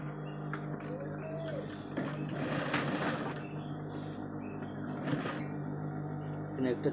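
A sewing machine runs in short bursts while stitching a cup onto a garment, a close rapid mechanical whir with brief pauses and faint clicks between runs.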